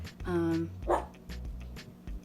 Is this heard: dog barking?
yes